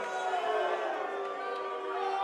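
A steady wash of crowd noise fills a hall during the UFC 273 pre-fight press conference in Jacksonville, a continuous murmur of cheering with no single voice standing out.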